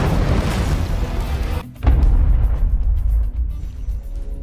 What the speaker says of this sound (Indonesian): terjadilah ledakan dahsyat yang tak terelakkan